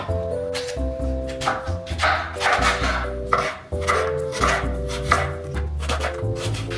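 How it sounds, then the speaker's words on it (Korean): A knife slices through cabbage on a cutting board for Korean toast, producing repeated close, crisp chopping strikes in an uneven rhythm with no talk. "양배추도 좀 사와서 양배추 썰어가지고 한국 토스트 만들어 볼게요"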